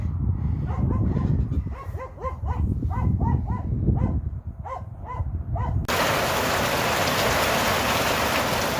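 Heavy rain falling in a village, at first mixed with dog barking nearby, then a steady, dense hiss of rain alone filling the last few seconds.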